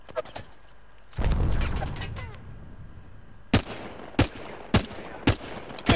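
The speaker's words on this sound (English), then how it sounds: "I am taking fire, friends." Gunfire in the Apex Legends video game: a long burst of automatic fire with a loud low boom, then five sharp, evenly spaced single shots, close and loud.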